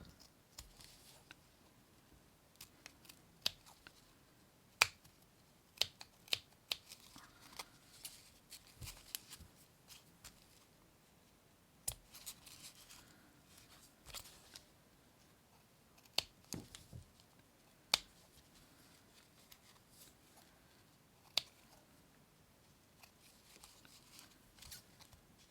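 Scissors snipping around a paper shape, a quiet series of short, sharp cuts at irregular intervals, close by and faint, with soft paper rustling between snips.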